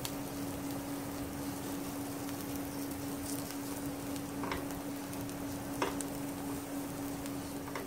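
Onions sautéing in a pan for a mini taco filling give a steady, close sizzle with light stirring scrapes, continuous and alone without any talk.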